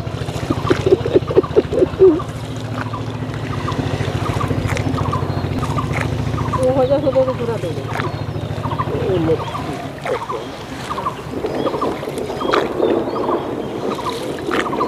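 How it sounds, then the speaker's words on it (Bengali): A rowing boat glides along the Kunti river with rhythmic splashes and creaks, wind buffeting the microphone and faint voices in the background. "নৌকা বিহার হচ্ছে"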